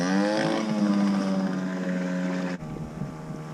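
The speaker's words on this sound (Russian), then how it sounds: "Все, парней забирает баркас." Motor launch boat pulling away on a bay, its engine drone loud and close with harmonic whine, then dropping off sharply as it departs.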